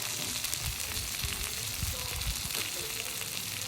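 Chicken pieces for fajitas fry in hot oil in a pan, giving a continuous crackling sizzle with scattered pops and spatters, close and steady with no talking.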